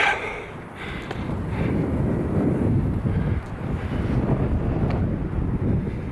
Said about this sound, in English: I've got the wind behind me again now for a bit.